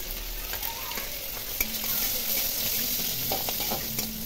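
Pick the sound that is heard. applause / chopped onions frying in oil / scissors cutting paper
chopped onions frying in oil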